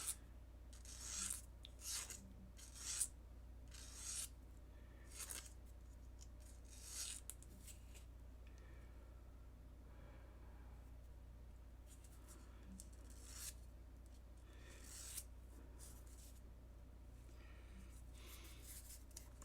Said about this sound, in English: This is like a 220 grit emery board, and it works really good.